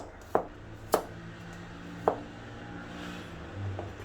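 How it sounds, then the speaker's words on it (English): A knife chops through leftovers on a cutting board for egg fried rice, three crisp close knocks spaced unevenly over a quiet kitchen background. "cut them into slice first"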